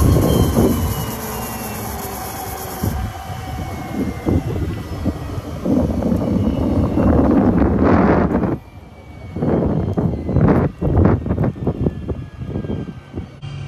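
Engine noise from a Cirrus SF-50 Vision jet turning on its starter during an engine rinse, a loud steady whine and roar with rising and falling tones, close by, then choppier bursts of mechanical rumble toward the end.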